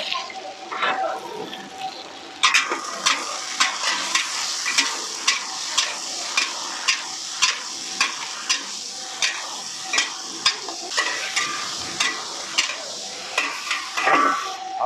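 Green beans are stir-fried in a pan. A steady sizzle runs under a spatula that scrapes and taps in a quick, regular rhythm, close and fairly loud.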